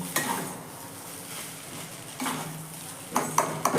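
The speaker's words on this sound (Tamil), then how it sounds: "பாருங்கள் நல்லா மிக்ஸ் பண்ணிக்கோங்க, கட்டிலாம் இல்லாமல் நல்லா உடச்சி விட்டுக்கோங்க" Cooked rice being stirred and broken up in a pan for egg fried rice, with soft scraping and a few sharp metallic clinks of a utensil against the pan, close and moderately quiet, louder taps near the end.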